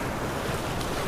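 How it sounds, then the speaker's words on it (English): Surf waves breaking along the Texas coast, a steady full-band wash of churning water and wind buffeting the microphone at close range, with no voices. "The waves keep coming up to my neck."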